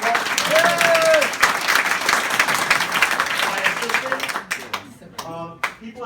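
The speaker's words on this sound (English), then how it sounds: "Another round of applause." A crowd at a Bernie Sanders campaign headquarters gathering in Greenville, South Carolina claps loudly and steadily, the applause then thinning into scattered individual claps, with a voice and a brief whistle-like tone heard over it.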